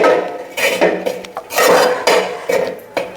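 A clam stir-fry (kakka erachi thoran) being stirred in a pan, with repeated scraping and clinking of a utensil against the metal pan in an irregular rhythm, loud and close.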